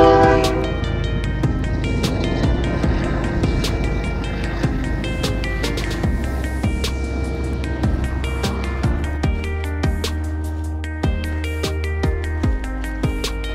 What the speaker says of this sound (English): there's a train back there.